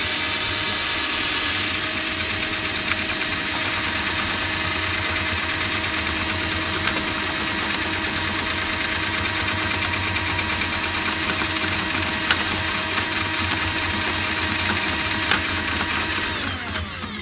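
A Ryobi P4002 hybrid drain auger runs forward in a steady, loud mechanical drone with a whirring motor tone that holds for the whole stretch, with no talking.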